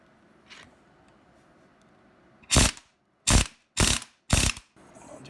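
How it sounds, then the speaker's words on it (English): An impact wrench on a Toyota Tacoma driveshaft pressing a U-joint together, four loud close bursts of rattling hammering with short pauses between them after a faint earlier tap. "Put the impact on it and just try and squish them together."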